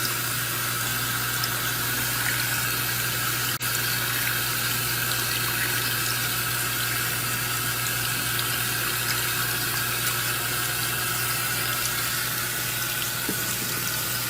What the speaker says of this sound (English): And the water is going in